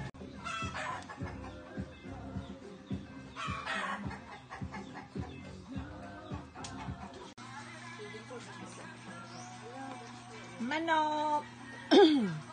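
Native Filipino hens cluck and a rooster calls nearby, with people chattering over the birds throughout.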